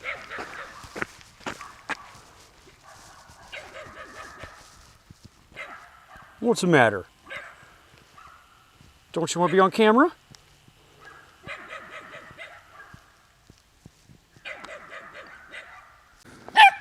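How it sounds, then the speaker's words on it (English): Small 12-pound Kentucky dog barking at a hiker on a road walk, a few sharp nearby yaps and whines between a man's spoken remarks, with footsteps on pavement. "I can't believe how brave these little Kentucky dogs are."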